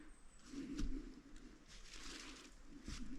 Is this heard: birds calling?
yes